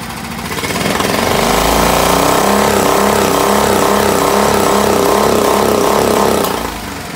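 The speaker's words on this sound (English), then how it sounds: "That's the rev limiter right there kicking in." A Briggs and Stratton 5hp outboard engine revving hard in neutral, a loud, close, rapid pulsing roar that holds at the rev limiter for several seconds before dropping away.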